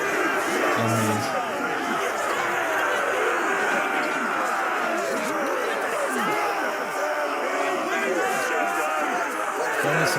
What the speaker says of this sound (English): Oh, that is so loud, them cheering.